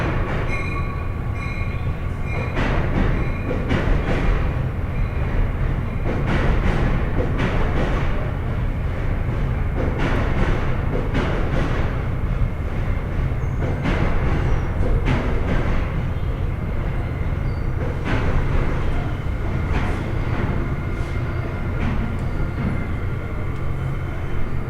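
Pennsylvania Railroad passenger car, the Alexander Hamilton, rolling at about 110 mph, heard from inside as a loud continuous rumble of wheels and track with rhythmic clacks and steady roaring, no voices.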